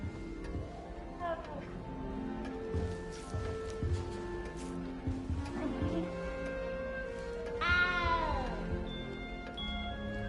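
In the video game Hogwarts Legacy, a cat meows several times, rising and plaintive, with the loudest call near the end. Voices talk and soft game ambience plays underneath.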